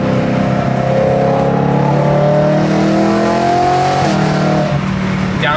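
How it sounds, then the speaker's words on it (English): A Corvette engine revs hard and downshifts, with loud rising and falling harmonic engine tones as it passes close by, followed by further revving near the end. "Downshift on this Corvette."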